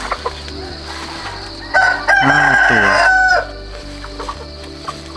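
A rooster crows loudly and close by at a rural hill-tribe village, one full cock-a-doodle-doo lasting about two seconds amid a low steady hum, with a brief word spoken before it.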